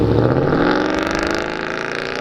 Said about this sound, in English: Did you get that American-made power that just drove by?